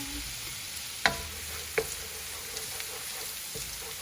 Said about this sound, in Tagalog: Gumamit ako ng malaking wok para at least mahalo natin siya ng maayos